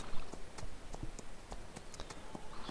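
Hooves of a horse being ridden in a video game, making a quiet, regular clip-clop pattern of evenly spaced soft knocks over faint background noise.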